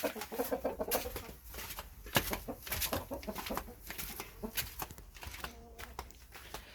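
Chickens cluck and murmur softly at close range, scattered short calls overlapping with light rustling and faint bird chirps in the background.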